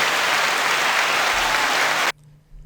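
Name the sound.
applause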